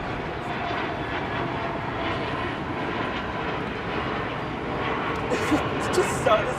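Jet airliner taking off at LAX, a loud continuous engine roar that holds steady across the whole stretch, with people talking beneath it.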